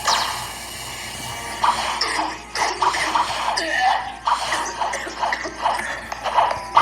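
A child coughs in short, repeated bursts over a steady background hiss, the coughs coming in uneven clusters.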